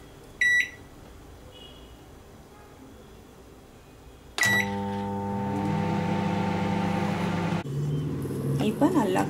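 A microwave oven cooking carrots on high power gives a beep, then starts up with a steady loud hum and whir that runs continuously, with a door or button click and a voice near the end.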